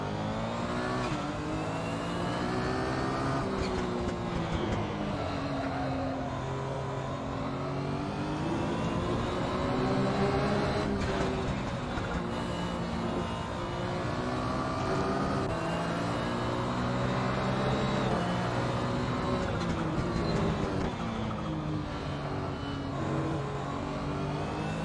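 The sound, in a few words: Porsche 911 GT1 race car engine in Assetto Corsa video game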